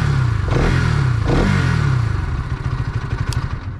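Bajaj Pulsar NS 200 motorcycle, a 2024 model, running close by with a loud, steady engine and exhaust drone and two quick revs early on, then a rougher, pulsing idle.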